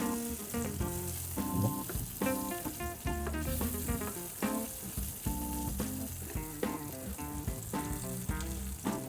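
Food sizzles steadily in hot oil while being stirred in a pan, the frying hiss running continuously beneath prominent background music.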